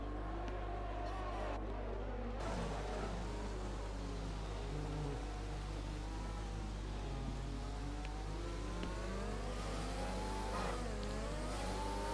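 Formula 1 race car engine in a Belgium race game replay, a continuous loud revving whine rising and shifting in pitch as the car accelerates, with a faint voice underneath.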